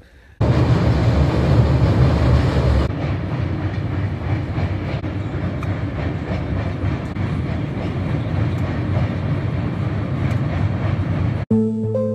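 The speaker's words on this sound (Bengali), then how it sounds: "ট্রেনটা একদম ব্রিজে ঢোকার মুখে আছে" A train rolls past at the approach to the Teesta river rail bridge, a loud, close, continuous rumble with rhythmic clatter of wheels over rail joints and no talking.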